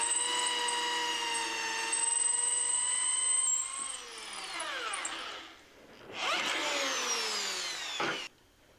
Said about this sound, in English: I'm using an old tap set just to clean out the threads there